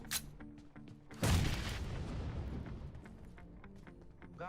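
A grenade goes off in a battle-royale shooter game, a single loud booming blast that swells suddenly and then rumbles and fades slowly, with faint earlier game sounds beforehand.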